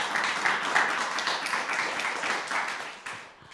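A class of schoolchildren claps together after a poem reading, a dense steady patter of many hands filling the room for several seconds before thinning out.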